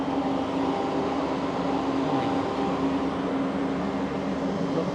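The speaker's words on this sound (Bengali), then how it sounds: "আমরা ক্যামেরার ব্যাকে গিয়ে আপনাদেরকে দেখি ট্রেনের ইঞ্জিনটা কেমন হয়" An electric train locomotive idles at a station in Kazakhstan with a constant loud electrical hum and droning machinery, steady and unchanging from start to finish, with no one talking.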